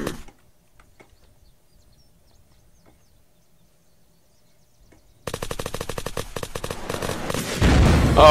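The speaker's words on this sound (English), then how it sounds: "he's shooting fucking rockets" Near-silence gives way to sudden loud rapid gunfire and blasts in the Unturned video game during a rocket launcher attack, ending with a heavy roaring explosion.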